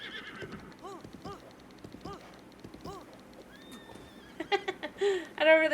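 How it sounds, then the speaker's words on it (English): Horses in Zelda: Breath of the Wild, with several whinnies and snorts over soft hoof clip-clop, joined near the end by louder game effects, with a voice talking faintly alongside. "Oh, look at all these horses."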